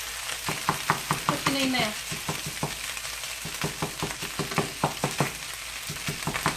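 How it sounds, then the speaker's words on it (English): Fried rice with eggs is stirred in a hot sizzling pan, a spatula scraping and tapping in a steady rhythm over continuous frying hiss, with a brief question spoken partway through. "Generously put the eggs in there, and I go back to stir my rice"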